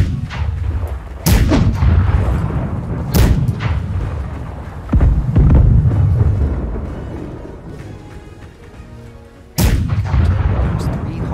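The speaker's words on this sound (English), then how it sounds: "Somebody load that front cannon with a grapple." Cannon fire in the pirate ship video game Blackwake: three loud, booming shots spaced several seconds apart, each with a long rumbling decay, over constant battle noise.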